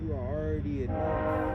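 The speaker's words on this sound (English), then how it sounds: "Pardon the train" A passing train sounds its horn in long sustained tones at moderate distance, running continuously beneath someone speaking outdoors with low rail rumble underneath.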